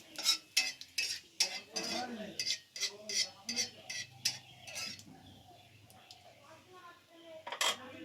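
Leaves are stir-fried in a pan, heard as close clinks and scrapes of a spatula against metal in quick irregular strokes, then a softer background sizzle with occasional taps.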